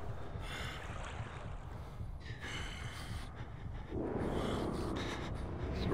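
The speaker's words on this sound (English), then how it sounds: "Just the footsteps in the water." Footsteps slosh through water in the horror video game Outlast. The splashing is a steady, muffled wash over constant low rumbling ambience, and it grows denser and louder in the second half. No voices are heard.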